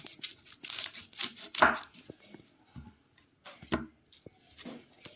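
Onions being chopped with a knife on a cutting board, a run of close, uneven thudding cuts with short pauses between bursts, no talking.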